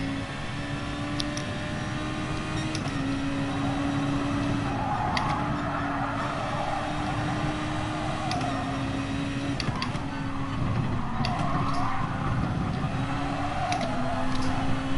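Race car engine from a sim racing game, a steady droning hum with shifting pitch through gear changes, loud and continuous throughout, no voices.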